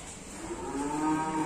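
A Simmental cow lows once in a short, fairly loud moo at a cattle dealer's yard, the call rising and holding steady.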